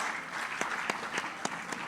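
Audience applause at a church conference event, steady crowd clapping with a few sharper claps standing out, sustained and fairly close.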